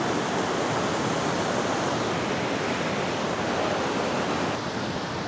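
Large ocean waves roar in a continuous, loud, broadband wash of surf near the shore, steady throughout with no voices.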